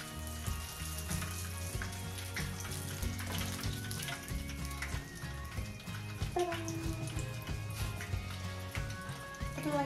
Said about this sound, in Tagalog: mag-prito na lang tayo gamit yung kagabi na mantika. Nilagay ko lang muna yung lumpia.